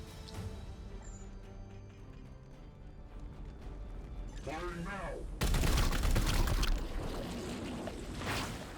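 Video game gunfire, a burst of rapid shots erupting loudly after a calmer stretch of game ambience, with voices talking underneath.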